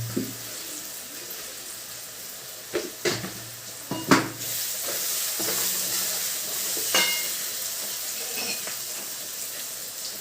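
Sweet corn chevdo sizzles in a pan while a spoon stirs and mixes it. A few sharp knocks and scrapes come early, then a continuous close sizzle carries on with occasional stirring.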